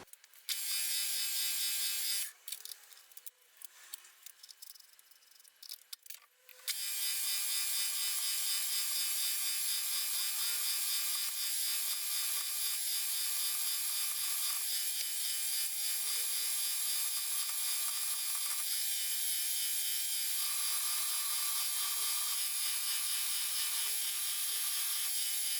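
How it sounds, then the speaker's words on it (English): Drilling and tapping M6 holes, 20 mm deep, into the top face of a metal part for a homemade shaper machine. A continuous harsh, grinding machining noise runs throughout, broken by short gaps near the start, with no speech. "there's 2 holes to drill and tap in the top face here"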